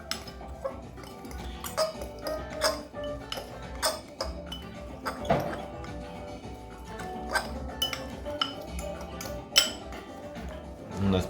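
Seasoned chicken wings being tossed and mixed in a bowl for air-fried wings, with repeated clinks and scrapes of utensil against the bowl in an irregular rhythm, close by, alongside a busy kitchen background.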